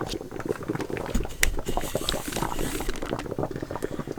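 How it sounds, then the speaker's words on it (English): Melted deer tallow bubbles in a double boiler, giving a dense, continuous crackle of small pops and liquid patter close up, with no voices. "So now we're just going to let that bubble out and get that water out of the tallow."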